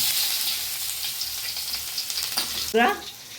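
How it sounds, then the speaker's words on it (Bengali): Chopped onion frying lightly in oil for a Bengali fish curry gives a steady, close, bright sizzling hiss throughout, with a brief sharper clatter near the end. "এবার হালকা করে আমি পেঁয়াজটা একটু ভেজে নিয়েছি"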